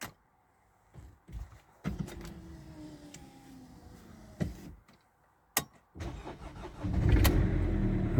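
A car is started for an air-conditioning odour check: a few clicks and bumps, then the engine cranks and catches, settling into a steady idle close by.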